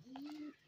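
A single soft coo from a domestic pigeon close by, one smooth low note lasting about half a second before fading into quiet room tone.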